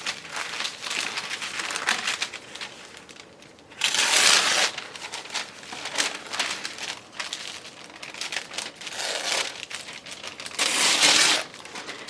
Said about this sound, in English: I think I'm going to tear a piece of this off first so I've got room here.